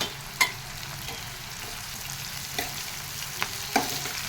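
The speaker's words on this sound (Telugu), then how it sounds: "ఇది కొంచెం ఫ్రై అవ్వాలండి" Curry leaves and green chilies fry in hot oil with a pinch of turmeric, a steady soft sizzle punctuated by four sharp clicks of a spoon against the pan, heard close and without talk.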